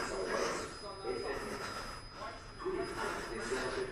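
A transit train on an Ottawa line rumbles along with rail and wheel noise, a steady loud wash with some squeal, while voices talk over it nearby.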